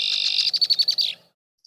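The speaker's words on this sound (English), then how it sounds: "male and female red-winged blackbirds, when they are a mated pair, they often duet" A mated pair of red-winged blackbirds duets, a bright buzzy note sliding into a quick run of about seven rhythmic trilled pulses, loud and close, then cutting off to silence.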